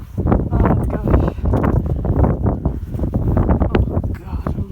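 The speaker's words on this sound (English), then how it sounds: "Bit windy." Gusty wind buffets the microphone on an exposed hillside along Hadrian's Wall, a loud, rough roar that rises and falls in waves throughout, with no one speaking.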